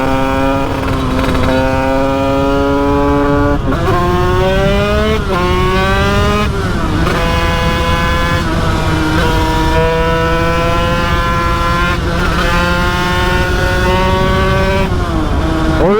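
A Bidalot 90 motorcycle, ridden gently on a not-yet-warm engine, accelerates through gears in loud, close, buzzing rising whines with brief drops at each shift, steady throughout.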